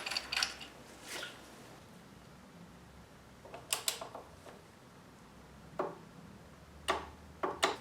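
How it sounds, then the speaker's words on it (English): Tightening the front axle bolt on a Honda CB500's forks with a small torque wrench gives faint, scattered metallic clicks and ticks in short clusters against a quiet background. "So now I've got to tighten the axle bolt to 60 Newton meters."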